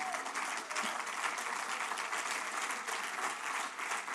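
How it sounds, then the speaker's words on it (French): Church congregation applauding together during a French-language sermon, a dense, steady wash of clapping that fills the space without letup. "Oh, acclame le Seigneur Jésus."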